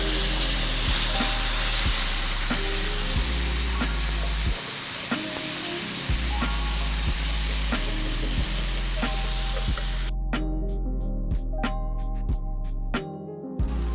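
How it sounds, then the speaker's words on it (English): Whole tomatoes hit a hot pan of toasting spices, producing a loud, continuous close-up sizzle with a sudden cut toward the end and some rhythmic background beats, without speech. "I'm gonna go ahead and add my tomatoes to the pan."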